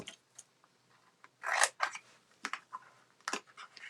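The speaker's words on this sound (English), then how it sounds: "And then I'm going to cut another rectangle out" Scissors snipping through a sheet of paper to cut out a rectangle for a gift box, a series of quiet, close, irregular crisp cuts with brief pauses between them.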